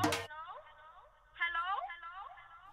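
A phone rings with a melodic electronic tune of repeating tones in a film scene, preceded by a short loud burst of noise, playing at moderate volume with a brief lull midway.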